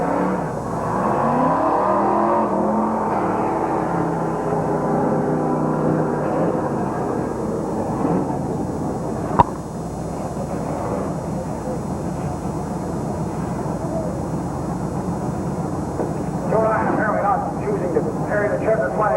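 Race cars roar around the Midvale Speedway oval in 1987, a steady engine drone heard beneath continuous announcer commentary, with one sharp pop partway through.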